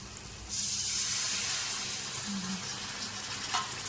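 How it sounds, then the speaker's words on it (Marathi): Water from a glass is poured into a pan of fried green chillies, giving a sudden loud hiss and spray that begins sharply and then carries on as a steady broad sizzle for several seconds. "आता ह्याच्यामध्ये मी पाणी टाकून घेते."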